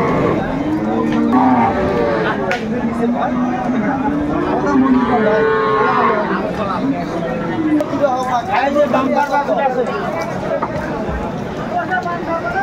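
Cows with calves at the Aftabganj cattle market in Dinajpur moo repeatedly, loud and close, over a busy babble of traders and buyers talking.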